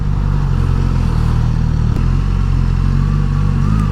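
Suzuki GSX-S 1000 motorcycle pulling away under throttle, its engine a loud, steady mid-pitched drone with constant harmonic buzz and wind noise, rising slightly in pitch late on.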